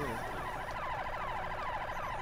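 A car alarm in Halo 3 ODST wails over and over in a rising, siren-like pattern, loud and steady for the whole stretch with no one talking.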